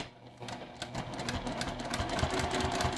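A sewing machine with a quarter-inch foot runs a short burst of stitches, its rapid mechanical whirring and needle ticks close and clear, rising slightly as it continues, with no talking.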